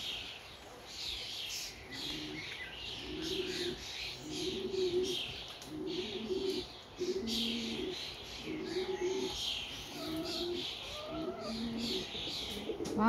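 A large flock of starlings calls continuously in a rural village setting, a dense steady chatter of chirps and whistles, with the repeated soft cooing of a dove or pigeon running through it and hens faintly in the background.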